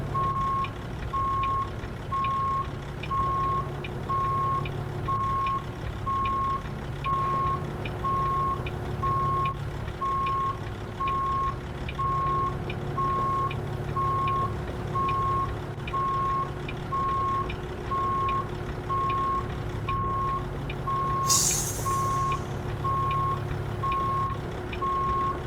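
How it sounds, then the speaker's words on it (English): A truck's backup beeper sounds in American Truck Simulator, a steady run of evenly spaced electronic beeps over a low idling engine hum, continuous and moderately loud, with no voices. "The next thing I will do, if I can, is take off that backup beeper."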